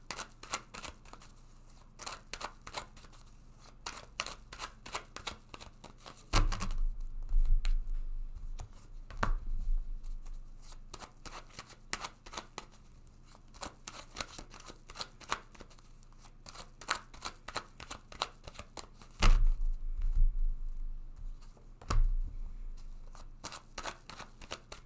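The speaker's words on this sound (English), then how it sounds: "Let's take some cards for overall clarity, guidance and prediction now." Tarot cards being shuffled by hand, heard as soft, rapid riffling and flicking, with a few louder bursts of bridging and tapping, close and fairly quiet.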